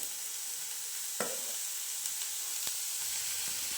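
Onion frying in a pan hisses in a soft, continuous sizzle, broken by a few light spatula scrapes and taps, close and low in level with no talking.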